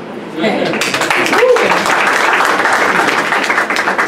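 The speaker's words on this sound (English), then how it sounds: "Once again, a round of applause, please." Applause from an audience at an authors' conference and book launch, steady dense clapping sustained throughout, loud and close, filling the space without pause.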